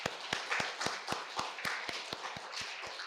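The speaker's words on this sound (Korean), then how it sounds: "하나님께 영광의 박수를 드리겠습니다." Rhythmic congregational clapping in unison during a church Sunday worship service, steady evenly spaced claps over a murmur of voices for about three seconds.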